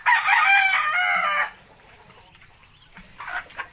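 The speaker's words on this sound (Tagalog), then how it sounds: "Ay, may manok pa." A rooster crows loudly and close by, one long strained call, then near silence before a second crow begins.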